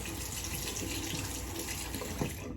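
A 1930s Gillette open comb safety razor being rinsed under a running tap, heard as a steady, close rush of flowing water with slight splashing and no speech.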